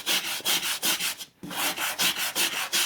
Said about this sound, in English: Now we're going to use our grout brush